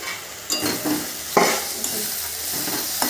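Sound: stirring and frying spice paste in a pan

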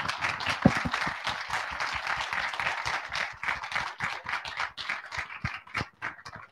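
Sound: audience applause for the Waterstart crew

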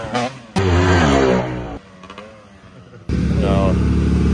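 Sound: motorcycle engine being started and revved

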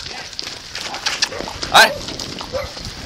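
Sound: dog barking during cattle drive

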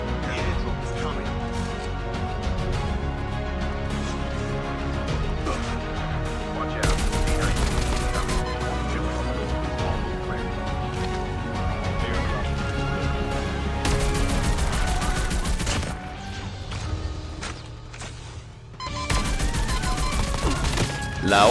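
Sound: Oden assault rifle gunfire in Call of Duty Mobile video game

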